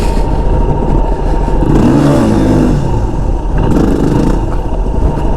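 Yamaha WR250R dual-sport motorcycle engine revving hard in low gear as a rider tries a slow wheelie, a loud continuous near drone with a rising-then-falling rev surge in the middle and steady throttle throughout.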